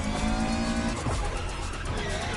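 Citroën GT and Renault Trésor racing in The Crew Motorfest, engines roaring with revving and brief tire squeal, loud and close throughout.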